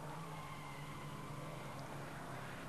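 Two-litre class touring cars from a 1992 German Group N season race closely for the lead, engines roaring in a dense, continuous wash of noise with no clear breaks.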